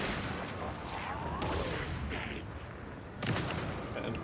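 Gunshots in the horror game Alan Wake 2, a few heavy booming shots standing out against a dense, noisy background, fairly quiet overall.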